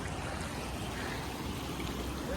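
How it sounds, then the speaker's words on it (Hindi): Clear water flowing through small channels on a family walk in Kashmir: a steady, close rushing and gurgling with no break, and no talk. "यहाँ पे छोटी छोटी नालियों में भी बहुत साफ पानी है"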